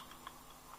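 A computer keyboard gives a few faint, quick key clicks in a quiet room, spaced irregularly as a short command is typed.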